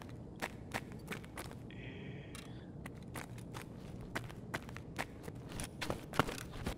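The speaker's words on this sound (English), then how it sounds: "I think I heard a footstep" Footsteps in Escape From Tarkov, a steady string of soft, crisp steps at a walking pace, fairly quiet over a low ambient background.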